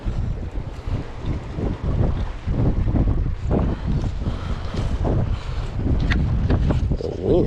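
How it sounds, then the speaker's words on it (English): Strong wind buffets the microphone at a North Florida boat ramp, with a continuous low roaring rush and uneven gusts. "Wind is going ham."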